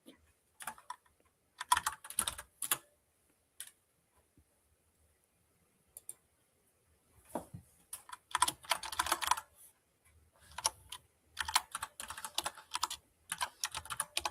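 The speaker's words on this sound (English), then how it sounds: "Someone is typing" Typing on a computer keyboard in bursts of rapid clicking keystrokes separated by pauses, fairly close and clear, with no talk over it.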